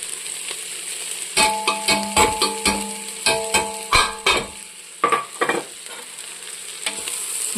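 Spice powders (chili, coriander, turmeric, garam masala) sautéed in a pan for beef curry: a steady sizzle with a run of loud scraping stirs and clinks of the spoon against the pan, close and without talk.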